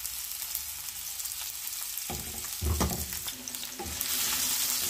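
Sliced onions and green chilies frying in hot oil in a pan, a steady loud sizzle with stirring clatter and bursts of crackling as the ingredients are moved around.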